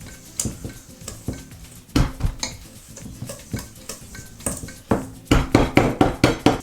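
Batter for a galette des rois being mixed in a bowl, with a run of close, rhythmic scraping and clinking strokes that speed up into quick, regular beats near the end.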